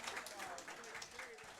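An audience claps at a fighting game tournament for Arcana Heart 3 LOVEMAX SIXSTARS, a steady patter of applause heard under commentators talking throughout.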